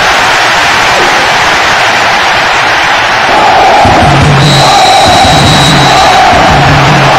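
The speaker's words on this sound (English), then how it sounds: "The crowd loving this." A loud virtual stadium crowd in the PES6 football game roars and cheers after a goal between Bayer Leverkusen and Benfica, a dense, steady wash of noise throughout, with a brief voice exclaiming over it.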